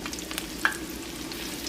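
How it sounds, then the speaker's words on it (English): Breaded green tomatoes frying in hot oil in a pan, a steady soft sizzle and crackle with a few sharp pops, close by and alone. "When you put anything into hot oil, drop it away from you"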